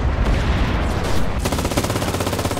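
Sustained machine gun fire rattles continuously on the Normandy beach in the video game Enlisted, with a rapid, steady pulse of shots that grows sharper and denser partway through.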